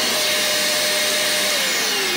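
A household vacuum cleaner runs with no dust bag fitted, a steady loud whooshing motor drone with a slowly falling whine and no other sounds.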